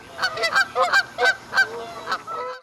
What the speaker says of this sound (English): So next time you see a gaggle of Canada geese, remember, they are not just making noise,